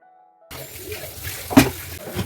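Dishes are washed under a running kitchen tap: a short near-silence, then a steady splash of flowing water with a brief sharper clatter partway through.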